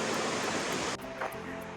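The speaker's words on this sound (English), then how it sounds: "View of the waterfall." Waterfall beside a cabin porch in the Blue Ridge Mountains near Ellijay, Georgia: steady broadband rushing of falling water, loud and close, easing slightly after about a second but continuing without a break.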